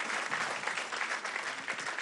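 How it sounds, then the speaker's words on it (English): An evening awards-ceremony crowd applauds recipients of the Channel News Asia Luminary Award 2013, with dense, steady clapping filling a large hall. "A round of applause for all Channel News Asia's Luminary Award"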